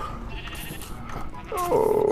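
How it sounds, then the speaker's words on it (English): Sheep bleating in the Minecraft video game, a short rising bleat near the end over a busy background of game sounds and faint voices. "Rainbow sheep."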